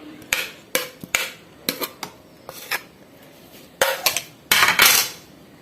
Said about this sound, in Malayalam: ക്യാപ്സിക്കും സവോളയും കൂടി ഒന്ന് പതുക്കെ ഒന്ന് ചതയ്ക്കുക